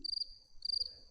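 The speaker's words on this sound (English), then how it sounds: "That's crickets." Crickets chirp in two close, rapid trilling bursts separated by a short pause, with a faint low murmur beneath.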